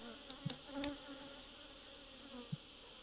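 Honeybees buzz steadily around frames of queen cells at a hive in Malta, a close, continuous drone with a few short louder passes as individual bees fly near.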